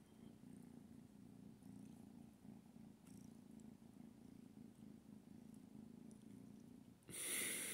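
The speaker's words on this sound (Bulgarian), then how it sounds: "Една щастлива котка." Small young cat purring steadily and softly up close, a continuous low rumbling vibration that is interrupted by a brief bright noise at the end.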